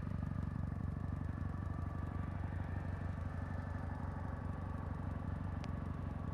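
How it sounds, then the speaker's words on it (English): Quiet, even putter of a Kawasaki W800 motorcycle exhaust, a low steady rhythmic thrum heard faintly at a distance with no talk over it. "The exhaust in the W800 is very quiet."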